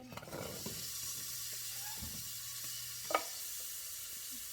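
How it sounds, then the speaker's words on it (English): Food sizzles steadily in a pan on a stove while spaghetti and meatballs are being cooked, a soft continuous hiss with a brief clink near the end and no talking. "That one's sizzling away."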